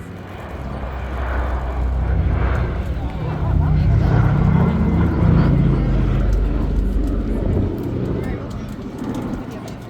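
Boeing B-17G Sally B, a World War II bomber, drones steadily with a deep, loud engine rumble at the East Kirby airshow, while a voice talks over it throughout.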